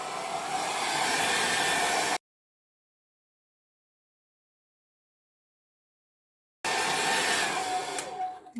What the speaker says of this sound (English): I actually used my hairdryer.